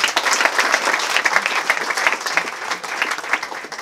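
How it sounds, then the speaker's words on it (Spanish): Sustained, dense applause from a gathered crowd welcoming mayor Juan Rivera at the inauguration of a community kitchen and dining hall; steady and fairly loud for the whole stretch, with no talk over it. "recibámoslo con un fuerte aplauso"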